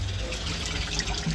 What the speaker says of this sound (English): What I should do for you though is check the water pressure and the temperature